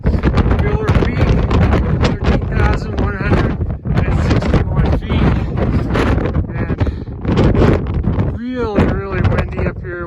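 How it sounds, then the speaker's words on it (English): Strong wind roars and buffets the microphone on a mountain summit at 13,161 feet, a constant loud rush under someone speaking throughout. "really windy up here. Wind whipping around."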